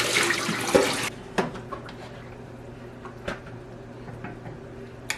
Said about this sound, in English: Now I'll give this meat a proper rinse.